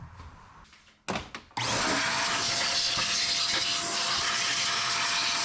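Compressed air blasting debris out of a car engine bay, starting after a few short hisses and bumps, then becoming a loud, steady, close rushing hiss that holds to the end.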